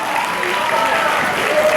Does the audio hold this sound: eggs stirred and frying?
no